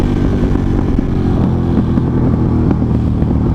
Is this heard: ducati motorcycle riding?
yes